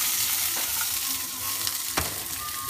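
Peppers fry in hot oil in a wok with a steady close sizzle and crackle. A few sharper pops and spits break through along the way.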